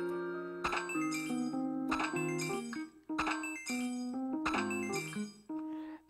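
Repeated metallic clinks and ringing chimes from banging on a rock for bells in Animal Crossing: New Leaf, struck in quick rhythmic bursts with brief pauses between, bright and close.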